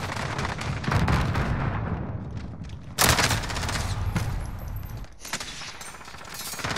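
Rapid gunfire from an Odin rifle in a multiplayer shooter game, dense repeated bursts with loud volleys and a sharp burst partway through, close and continuous, no talking.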